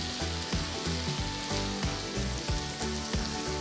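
Finely chopped onion frying in a pan for ivy gourd rice, a steady close sizzle with regular stirring scrapes and pulses, no talking.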